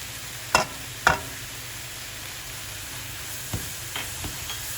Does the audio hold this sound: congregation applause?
no